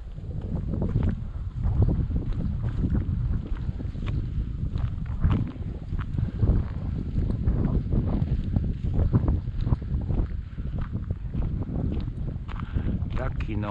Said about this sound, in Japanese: またいい風が吹いてますもんね